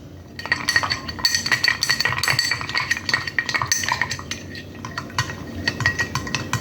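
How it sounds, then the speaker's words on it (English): A spoon stirring an old fashioned whiskey cocktail in a glass, rapid close metallic clinks and tinkling of ice against the glass in a continuous busy rhythm. "And we're going to give it another stir."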